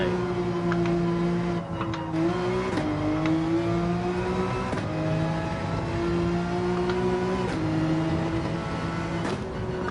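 Race car engine in Gran Turismo 7 droning steadily close up, its pitch climbing and then dropping at several gear shifts, with no talk over it.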